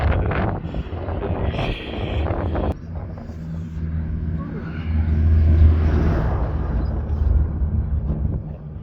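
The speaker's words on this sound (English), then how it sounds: "There's a tractor coming from here." A tractor approaches outdoors on farmland with cows nearby, its low engine rumble building steadily under wind buffeting on the microphone, with a voice talking briefly at the start.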